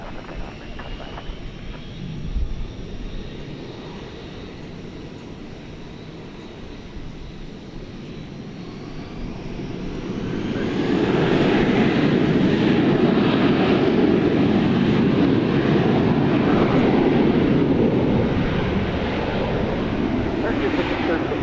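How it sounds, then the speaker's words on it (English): At night at DFW Airport, an American Airlines Airbus A321 spools up for takeoff, its jet roar swelling from a distant hum into a loud, sustained rush, with radio chatter and talk beneath it. "Headed off there is American Flight 2568 to San Diego, an Airbus A321."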